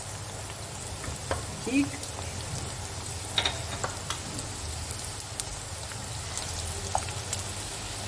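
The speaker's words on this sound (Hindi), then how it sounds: "थोड़ी थोड़ी करके आपने इनको फ्राई करना है" Okra sizzles in hot ghee, a continuous close crackle with scattered pops and light stirring clicks, while a person speaks briefly.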